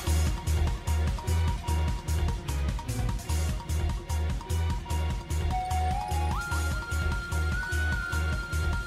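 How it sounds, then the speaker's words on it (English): Music from Pokemon Scarlet and Violet, the regular battle theme in Area Zero, with a driving, pounding beat, dense layers and a steady melodic line rising higher partway through, loud and continuous with no talk. "In Scarlet and Violet, the regular battle theme for Pokemon in the mysterious Area Zero is like this."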